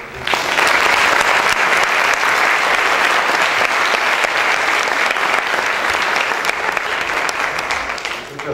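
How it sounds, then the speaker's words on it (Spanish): Welcoming applause from an audience at a university architecture faculty lecture on earthquakes, with dense, sustained clapping from a large crowd that fades slightly at the end. "Iniciaremos con el doctor Juan, pero igual les puedo dar un aplauso de bienvenida."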